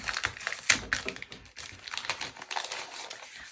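A sticker pack of multicolor squares for a planner being opened up close, quick crinkly rustling and tearing bursts that keep up steadily with small clicks, no talking.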